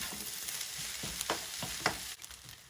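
Egg is stirred into fried rice in a hot pan, with a soft sizzle under a series of brief scraping strokes from the utensil at low volume.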